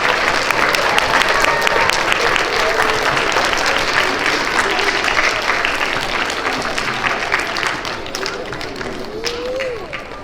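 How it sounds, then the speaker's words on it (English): A school assembly crowd of PreK to third grade students and adults applauds for second grade, producing loud, dense, continuous clapping that tapers a little near the end, with scattered children's voices underneath. "Give a round of applause, second grade."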